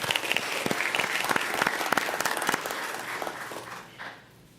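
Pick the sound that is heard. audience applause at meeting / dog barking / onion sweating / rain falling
audience applause at meeting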